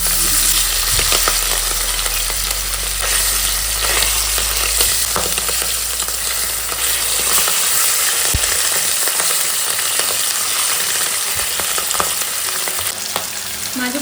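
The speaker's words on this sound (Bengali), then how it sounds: "এবার অপর দিকটা ভেজে নেবো।" Hilsa fish pieces frying in hot oil in a pan after being turned to the other side, a loud, continuous crackling sizzle with a few scraping stirs and no voices.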